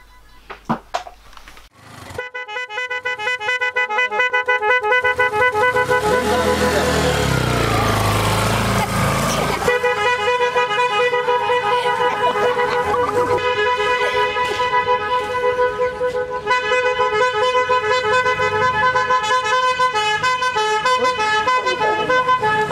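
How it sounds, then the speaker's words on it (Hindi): An LED musical horn with 18 different sounds plays loud, continuous melodic tones, running through a series of tune patterns with a brief burst of noisy blare midway, sounding alone without talk. "तो अभी इंजॉय करते हैं अपने ये हॉर्न।"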